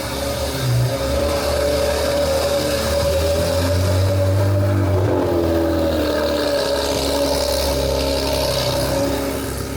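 A Porsche 997.2 GT3 engine revs loudly and steadily at close range, a sustained rasping roar that swells briefly in the middle and holds throughout; no one talks over it.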